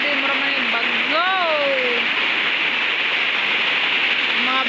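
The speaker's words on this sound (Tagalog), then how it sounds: "Grabe, maraming bagyo." A constant, dense hiss of heavy rain and wind during a storm fills the clip, with a voice briefly heard over it.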